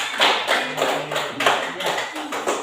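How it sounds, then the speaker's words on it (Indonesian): Classroom clapping in unison, with about ten distinct rhythmic claps over a few seconds from a group of students, moderately loud and close, and a low voice murmuring faintly underneath. "Tepuk tangan sekali lagi"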